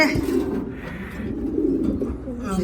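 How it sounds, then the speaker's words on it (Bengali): A pigeon cooing in a loft with aggressive birds, a low throaty coo rolling on for a few seconds, close and fairly loud, with faint bird chirps above it. "কবুতরটা"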